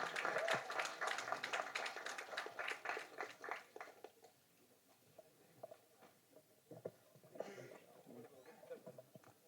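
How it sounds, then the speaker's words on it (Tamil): Applause from the crowd at a youth success meet as a speaker is called to the stage. Scattered clapping is fairly loud at first, then thins to sparse, faint claps with some low background voices. "ஒரு பெரிய கைத்தட்டலோட"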